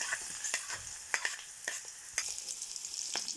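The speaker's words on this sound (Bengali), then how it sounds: "পেঁয়াজটা হালকা ভাজা হয়ে আসলে তারপরে হচ্ছে চিংড়ি মাছটা দিয়ে দেওয়া হচ্ছে" Shrimp and onions frying together in a pan with chili for a bottle gourd peel stir-fry: a steady, close sizzle with scattered sharp clicks and scrapes from stirring, and no voices.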